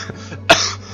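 A single sharp cough bursts out close and loud, brief and throaty, over a low steady hum with faint background sound.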